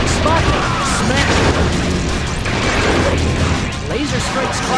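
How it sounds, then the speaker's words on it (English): Explosions from laser strikes in a fast action video game, a dense run of crashing booms and impacts layered over busy game effects and music, loud and continuous throughout. "Laser strikes cause explosions, so stay clear of them, too!"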